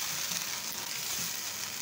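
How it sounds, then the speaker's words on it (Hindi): Spices with green cardamom and salt frying in a karahi for white chicken karahi, a steady close sizzle with soft stirring scrapes running throughout, no voices. "तो अच्छे से मसाले को मिक्स कर लेंगे इसमें।"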